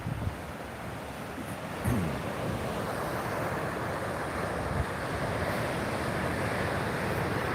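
Slow, evenly lined-up ocean waves break steadily along the Florida coast on a cold winter day, a continuous wash of surf with light wind noise and a couple of louder swells cresting, with no voices.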